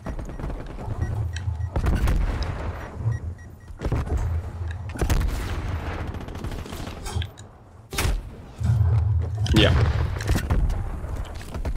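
Shotgun blasts and other gunfire in Black Ops Cold War on the Nuketown map, loud repeated bursts with gameplay sounds and occasional talk in the background.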